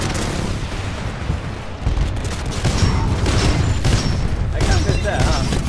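Heavy booming weapon fire and blasts from an enemy Titan in the Titanfall 2 video game, a loud, dense barrage that persists throughout, with speech over the top.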